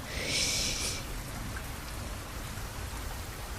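Steady rain falls outdoors, a dense continuous patter with a brief brighter splash near the start, then an even wash of drops that fills the whole stretch.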